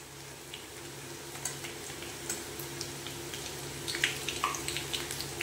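Ginger garlic paste goes into onions frying in plenty of oil, giving a soft, steady sizzle with light stirring and scraping clicks in a quiet kitchen.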